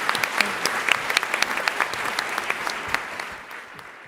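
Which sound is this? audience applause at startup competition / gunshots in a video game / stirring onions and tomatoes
audience applause at startup competition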